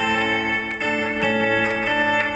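Electric guitar notes pick out a short lick over a steady sustained drone, with a few picked accents and no talking.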